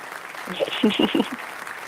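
A studio audience on a talk show applauding, a short burst of clapping lasting about a second, with a voice speaking over it against a steady room hum.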